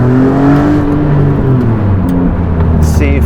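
Maserati MC20 engine accelerating in third gear, a close loud rising drone with a steady upward-sweeping pitch, heard from inside the car.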